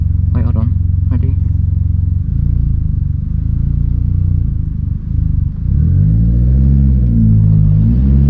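A Vauxhall Corsa's exhaust rumbles loudly from inside the car on a night drive, with a low droning engine and a few sharp pops early on, later rising and falling as it accelerates, while a voice speaks over it.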